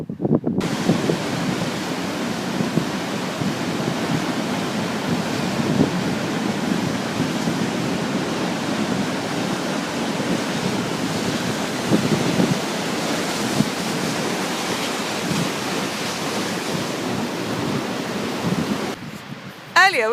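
Rushing waterfall and stream at the base of the falls, a steady broad roar of flowing water that stays loud and close throughout, with a voice speaking briefly over it near the end.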